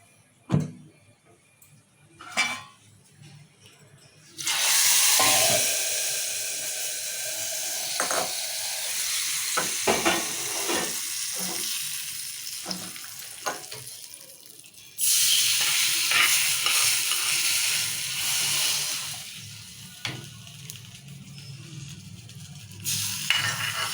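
Hot oil sizzles loudly in a pan in two long bursts as a tempering fries, with quieter crackling and stirring clatter in between; no one speaks.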